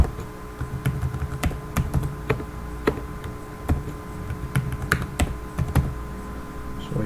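Someone types a password on a computer keyboard: scattered, close, distinct key clicks at an uneven pace over several seconds against a faint steady hum.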